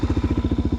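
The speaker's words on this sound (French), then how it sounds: "il a l'échappement Leo Vince qui chante putain de bien" Suzuki DRZ 400SM supermoto single-cylinder engine with a Leo Vince exhaust, idling close by with a steady, fast thumping pulse of evenly spaced low beats, loud and alone.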